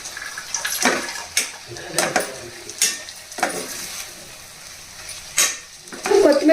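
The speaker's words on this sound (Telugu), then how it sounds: "చీల్చిన నాలుగు పచ్చిమిరపకాయలు అలాగే కొంచెం కరివేపాకు వేసి బాగా కలపాలి" Slit green chilies and curry leaves sizzle in a pan for Konaseema prawn pulao, with repeated rhythmic stirring strokes scraping through a close, crackling fry.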